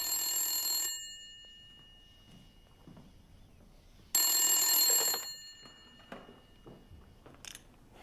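A telephone rings indoors in two loud bursts, each about a second long, separated by a pause of near silence, followed by soft faint room sounds and no talk.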